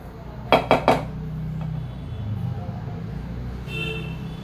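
A metal pot of coconut rice handled on the stove, three sharp clanks in quick succession followed by softer scraping and a light rattle, close, over a low background hum.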